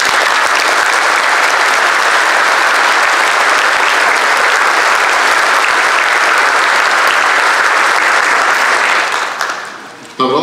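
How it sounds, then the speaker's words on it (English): Loud, dense applause from a large audience at a police academy graduation ceremony, sustained evenly for about nine seconds before quickly fading out. "Let's give everyone a round of applause."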